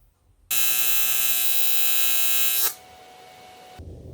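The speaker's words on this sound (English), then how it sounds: "That's what I get for trying to weld cast aluminum to a machined aluminum piece." A welder laying a bead where cast aluminum joins a machined aluminum piece on a Pontiac cylinder head, a loud steady buzzing hum that starts abruptly, holds for about two seconds, then cuts off to quiet.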